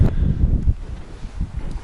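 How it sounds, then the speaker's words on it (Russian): Strong, stormy wind gusts through a forest during a hunting trip, buffeting the microphone with heavy low rumbling bursts that rise and fall unevenly, with no talking. "Уф, какой ветер. Штормит. Прям штормит."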